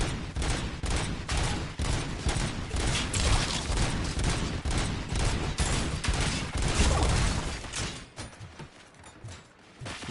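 Rapid, dense gunfire in a PS5 video game, loud continuous machine-gun-like bursts with heavy booming impacts that ease off briefly near the end.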